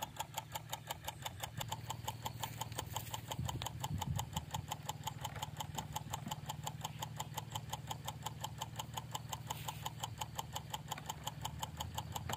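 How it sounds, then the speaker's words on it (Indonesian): Small rice-field tractor engine running to drive a river water pump, a steady rapid chugging beat at constant speed, moderately faint and continuous without talk. "Nanti mesin pompa airnya kita gerakin menggunakan mesin traktor bosku."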